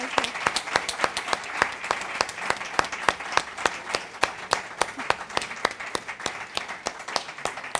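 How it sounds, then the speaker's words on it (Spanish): An audience claps steadily at a Spanish-language literary book presentation, the dense applause near and continuous for the whole stretch with no voices over it. "Un aplauso para Natalia."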